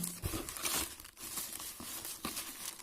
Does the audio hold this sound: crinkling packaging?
yes